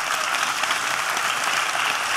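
A crowd at a Reconquête political rally applauds continuously, a dense, even wash of clapping with no break.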